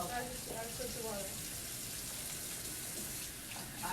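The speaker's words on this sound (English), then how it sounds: "So you keep your hands away from the stream of water" Steady rushing of tap water running over hands during handwashing with soap, a continuous close hiss with faint voices in the background.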